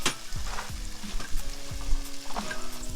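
Bacon fries in a pan at a campsite with a close, steady sizzle and crackle, scraped and stirred at intervals, and no talking.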